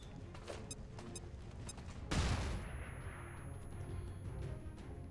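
A flashbang grenade going off in the XCOM 2 video game, one sharp loud burst about midway that decays into a ringing hiss, preceded by quieter game sounds.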